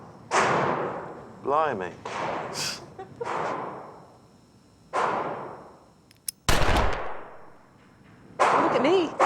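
A single loud firearm shot at a shooting range, a sharp close blast standing out between stretches of people talking, followed by a stunned exclamation.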